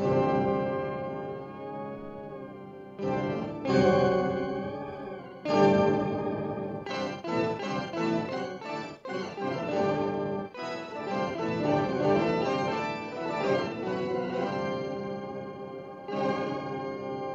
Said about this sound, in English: So this is 6 of them on.